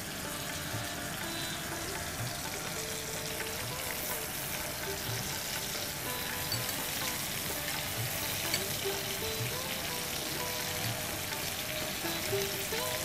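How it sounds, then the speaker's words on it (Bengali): Pointed gourd (potol) fries in a pan, a dense, steady sizzle and crackle of hot oil that continues evenly throughout at close range, with no talking. "হালকা করে পটলগুলো তুমি ভেজে নিলে।"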